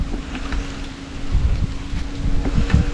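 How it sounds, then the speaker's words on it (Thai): Strong wind gusts buffet the microphone outdoors where a kite is being flown, rumbling and rising in loudness, with a faint steady hum underneath. "ลมมันแรงเกิน"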